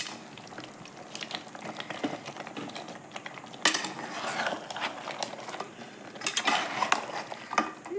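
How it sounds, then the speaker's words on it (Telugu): Goat head and paya gravy being stirred in a cooking pot, with a spoon scraping and clinking against the metal in irregular strokes and soft wet churning between, moderately close. "ఇలా బాగా కలుపుకోవాలి."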